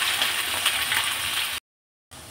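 Chopped onion and green chillies frying in hot oil with bay leaves, whole garam masala and cumin, a steady close sizzle and crackle that cuts out briefly near the end, then resumes.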